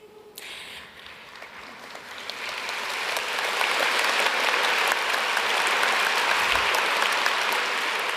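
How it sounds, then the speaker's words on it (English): Graduation ceremony crowd breaking into applause and cheering for graduates, starting thin and swelling within a few seconds into a steady, full roar of clapping that holds to the end. "an extra loud,"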